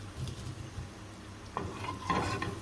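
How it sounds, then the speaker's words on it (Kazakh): Chak-chak dough pieces frying in hot oil, making a low steady sizzle with a few metallic clinks of a utensil against the pan, close and moderately loud. "Қызып тұрған майымызға чак-чактарымызды салып пісіріп аламыз осылай."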